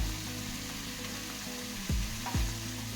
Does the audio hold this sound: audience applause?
no